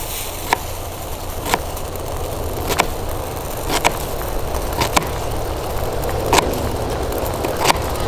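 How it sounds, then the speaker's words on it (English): Camping stove burning under a pot of water, a steady loud roaring hiss throughout, broken by occasional sharp clicks and ticks, with no one talking. "Stove's making a lot of noise over there."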